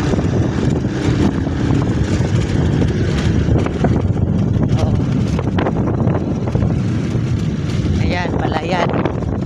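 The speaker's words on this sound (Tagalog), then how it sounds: "Doon sa dagat, mahangin." Strong wind at the seaside buffets the microphone with a constant rough rumble and gusts. A person talks over the noise on a hot day by the sea.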